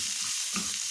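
Peppers stir-fried in a pan give a steady, close hiss of sizzling oil with a brief scrape of stirring partway through.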